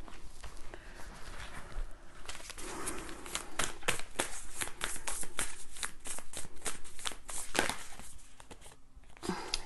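A deck of advice cards is shuffled over and over during a tarot-style card reading, giving a close, rapid patter of riffling and flicking bursts with no talking.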